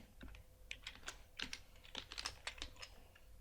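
Typing HTML code on a computer keyboard: quiet, irregular runs of close key clicks with brief pauses, no voices.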